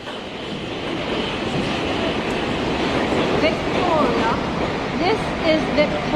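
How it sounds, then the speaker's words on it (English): At a railway station platform, the boat train from Dover rumbles in with a continuous low roar and faint squeals, while people talk nearby. "The train arriving at platform 5 is the boat train from Dover."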